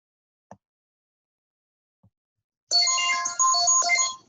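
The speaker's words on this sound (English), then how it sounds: "getting a phone call there" An incoming call sets off a phone ringtone, a bright electronic melody that begins suddenly after a near-silent stretch and keeps ringing, clear and close, with no talk over it.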